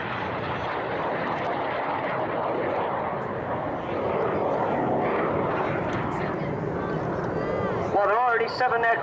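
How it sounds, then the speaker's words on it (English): Red Arrows display jets fly overhead at an air show with a loud, sustained roar that swells and holds, while an announcer talks over it. "only 7 aircraft displaying for you this afternoon"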